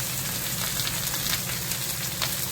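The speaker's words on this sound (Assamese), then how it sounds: "এয়া মই ভালদৰে অলপ লৰাই ভাজি লৈছোঁ" Onion, tomato and ginger frying in refined oil in a pan, a steady close sizzle with crackling throughout and no voices.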